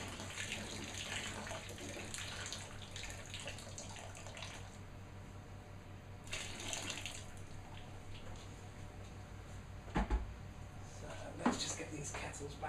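Boiling water poured from a kettle into a Better Brew beer kit fermenter for Irish stout or Yorkshire bitter, a steady rushing pour under faint room noise with a few brief clunks near the end.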